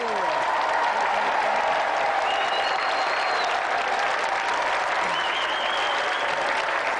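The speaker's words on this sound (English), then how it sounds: "a round of applause for our challenger, Warren Brazier" Steady, full applause from a large TV game show studio audience fills the whole stretch, with a few cheers and whistles rising above the clapping.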